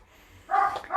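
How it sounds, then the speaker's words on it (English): Puppies giving a brief high whimpering yip at the end of a second of near quiet, close and fairly soft. "You want to go say hi to the puppies?"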